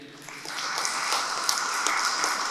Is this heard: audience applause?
yes